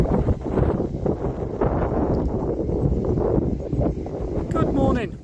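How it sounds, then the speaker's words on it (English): Strong wind buffets the microphone beside a moored canal boat, a loud, steady rumbling roar with gusty surges throughout and a brief rattle near the end. "if you can't hear it, it's very windy"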